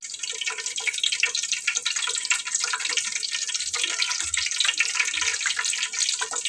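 Eggplant and potato pakoras dipped in batter crackle and sizzle steadily in hot oil, a dense continuous frying hiss with scattered pops, fairly close and without talk.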